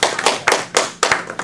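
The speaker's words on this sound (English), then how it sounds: "let's have a warm round of applause for our speaker this evening" A small audience at an evening community talk gives brief applause: a handful of uneven, close claps with distinct sharp hits, sparse rather than a full roar.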